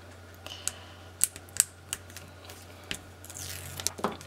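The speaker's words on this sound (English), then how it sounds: "So I'm going to go through and start taking this tape off." Double-sided tape backing being peeled off a craft shaker card, giving quiet, sparse crackles and sharp little ticks over a faint hum.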